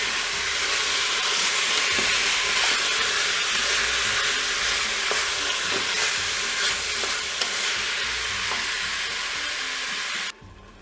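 Toulouse sausages fry in a Cookeo multicooker pot, giving a dense, loud, continuous sizzle with faint scraping stir strokes, which cuts off abruptly near the end.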